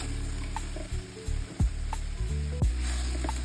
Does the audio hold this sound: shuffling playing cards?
no